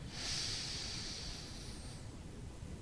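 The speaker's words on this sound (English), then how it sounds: "So full diaphragmatic breaths if you can, from the base of the spine all the way up through the rib cage. Long inhales, long exhales." One long, deep diaphragmatic breath, a soft airy rush drawn in and let out through the nose and chest, heard close and quiet with no voice.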